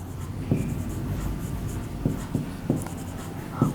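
Pen writing on paper during an accounting lesson, a steady scratching with several distinct strokes and taps, close and clear, no talking.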